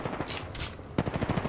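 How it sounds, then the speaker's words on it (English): Video game machine-gun fire rattles in quick repeated bursts, fairly close, with a short lull between volleys during a firefight. "I am taking fire, friends."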